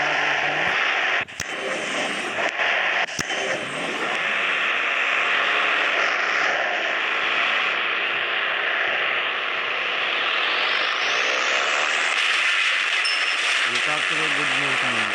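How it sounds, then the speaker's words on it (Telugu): Helicopter in an Indian bike video game, a loud continuous mechanical whine and rotor drone that holds steady and then rises in pitch toward the end, with a couple of sharp clicks early on. "మళ్ళీ హెలికాప్టర్ వచ్చింది"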